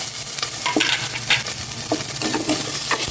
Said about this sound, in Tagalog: Isasabay ko ng igigisa itong mga niready ni Aya ang sibuyas, kamatis, bawang.